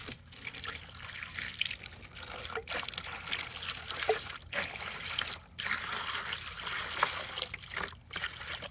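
Warm water poured from a jug onto tumbling serpentine rock outdoors in the cold, a close, trickling, splashing flow in uneven bursts broken by brief pauses.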